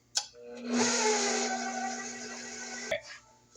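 An electric hand mixer whirs steadily for a few seconds while beating wet ingredients into maple pecan pound cake batter, starting and stopping with brief clicks, close and loud with no talking.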